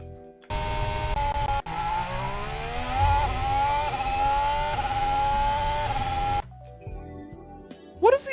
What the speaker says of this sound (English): What is the RPM limit of these new V6 engines? Because that doesn't sound like it's actually revving very high.